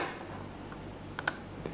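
Keyboard shortcut keys pressed on a computer keyboard, two quick clicks close together over a quiet room hum, with a faint tap after.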